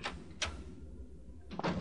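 A door opens in the horror video game Good Bye Rebeca: a quiet mechanical click and creak, then a short rattling thud, faint and close.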